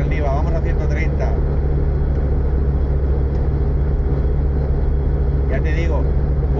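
A Lada Niva cruises at 130 km/h with a steady low engine drone and constant road roar from inside the cabin, a few brief plastic squeaks near the start and end.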